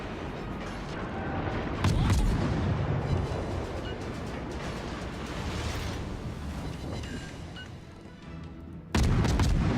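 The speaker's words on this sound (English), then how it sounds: "I'm just going to start shooting at him to try and get some damage or fires." Naval guns fire at an enemy ship in the World of Warships game: dense, rumbling booms and blasts overlap in a continuous loud barrage, with a sharp fresh volley at the end.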